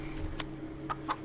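Chickens in the pens of a farm in Farming Simulator 19 give a few short clucks over a steady low background hum, moderately close.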